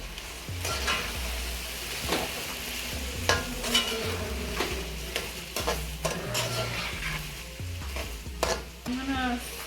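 Sizzling shrimp pelau rice mixture being stirred in a hot pot, with repeated scraping strokes of a utensil and occasional clinks, close and fairly quiet.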